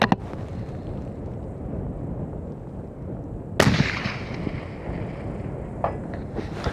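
A hunting rifle fires once, loud and sharp, at a 600-yard range target, shooting straight into the wind. Steady wind noise runs under the shot and through the rest of the clip.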